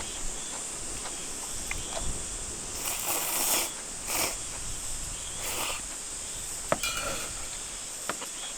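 Cicadas buzz at a summer valley campsite, a continuous high-pitched drone that swells in several pulses, steady and moderately distant.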